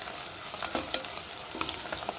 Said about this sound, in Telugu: ఇప్పుడు ఎండుమిరపకాయలు వేసుకుందాం తాలింపులో.